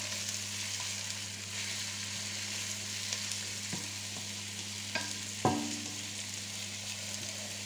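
Pork crépinettes browning in a pot in their own fat, an even continuous sizzle with a low steady hum behind it and a few small knocks and one sharper clank, close, no talk.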